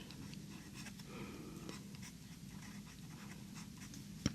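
An extra-fine fountain pen nib, tuned to write like a fine, scratching softly across paper in faint, close, irregular strokes.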